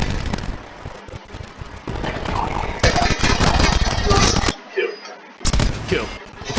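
Rapid bursts of Saug 9mm submachine gun fire in Call of Duty Black Ops 4, loud and close, in several long volleys with a brief gap near the end.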